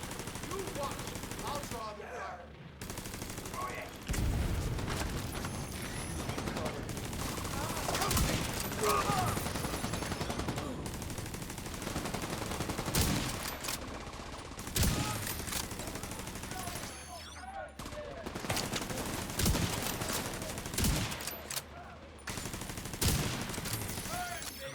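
Sustained video-game gunfire aimed at an enemy weak point rattles in long automatic bursts, with a voice talking over the shooting.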